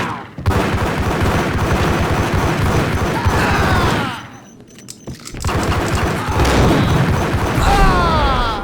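Heavy, sustained gunfire and booming blasts from the 2001 PC shooter Max Payne, loud and dense through most of the stretch, with a brief lull near the middle before the firing resumes.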